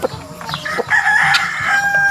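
A rooster crows close and loud on a rural farm where hybrid turkeys are kept, a single drawn-out cock-a-doodle-doo preceded by a few short clucks, with no talking.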